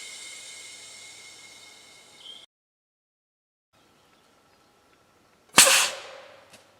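An air cannon fires a 3D-printed rocket: a steady hiss cuts off into silence, then one loud, sharp blast rings out close by and decays over about a second.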